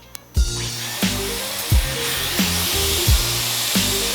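A Dyson Airwrap hot air styler curls damp hair with a constant high, rushing airflow whine, broken by a soft thump or click roughly every second.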